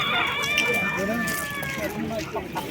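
Roosters crow repeatedly over clucking chickens at a busy poultry market in Fergana, close and loud, with people talking throughout.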